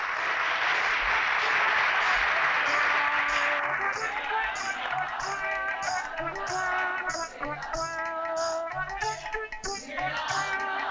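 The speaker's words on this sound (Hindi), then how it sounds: "तालियां।" Audience applause at a live comedy stage show, a broadband clapping wash for the first few seconds that gives way to voices talking over the fading claps.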